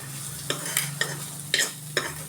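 Onions sizzling and being stirred in a pan for an omelette, with a steady frying hiss and a few scraping stirs at irregular intervals, close by.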